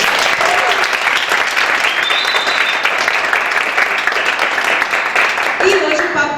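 A church audience in Guarapuava applauds after a presbyterian worship ministry performance, loud continuous clapping from a crowd filling the room, with voices mixed in and a sound near the end that may be a whistle.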